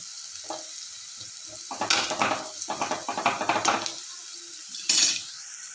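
Onions sizzle softly in a pan while a spatula scrapes and stirs in bursts, with light clinks of metal against the cookware.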